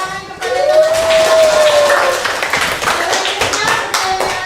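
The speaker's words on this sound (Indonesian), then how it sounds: "Kita berikan tepuk tangan kepada teman-teman." Students in a classroom give a short round of hand clapping, a brisk patter of claps with a teacher's voice speaking over it.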